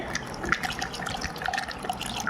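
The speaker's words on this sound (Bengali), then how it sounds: "এবার আমি এর মধ্যে জল দিয়ে দেব।" Cold water pours into frothy lassi, a continuous splashing, gurgling stream close by that lasts a couple of seconds.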